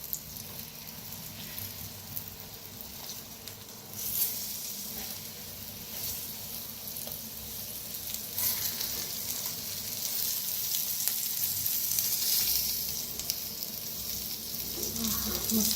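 Eggplant slices fry in a hot pan for a crispy, crunchy dish, giving a steady, close sizzle that runs throughout and swells slightly louder in the second half, with faint kitchen clatter and no talking.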